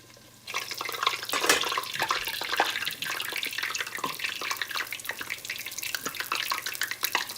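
Fry bread dough slides into extremely hot oil and bursts into a loud, continuous crackling sizzle with scattered pops and spatters, close and steady after a brief quiet start.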